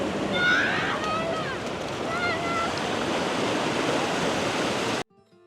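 Ocean surf washes continuously along a seaside promenade at Jardim do Mar, Madeira, a broad loud hiss with breeze noise over the microphone, faint chirping above it, then abruptly cut off near the end.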